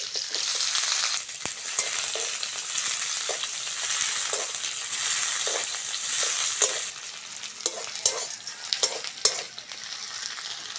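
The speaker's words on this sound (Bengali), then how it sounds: "পেঁয়াজ কাঁচা লঙ্কাটা ভালো করে ভেজে নিয়েছি" Sliced onion and green chillies frying in hot oil, giving a dense steady sizzle with a spoon scraping and stirring in the pan, close and loud, easing slightly in the last few seconds.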